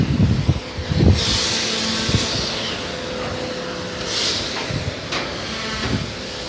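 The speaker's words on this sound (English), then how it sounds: "Sorry about the noise, boys, of water blasting." Steady, loud hissing rush of high-pressure water blasting logs in a timber mill, with occasional louder bursts and machinery thumps underneath, no talking.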